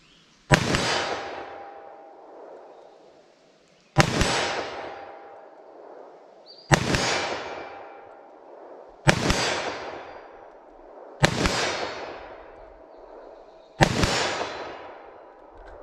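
Six loud, sharp gunshots from a snub-nosed revolver firing .327 Federal soft-point rounds, spaced roughly two to three seconds apart, each with a ringing decay outdoors and no talking between them.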